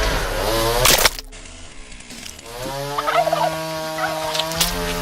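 A turkey gobbles loudly and nearby, a rapid warbling burst followed by a second, longer rattling call.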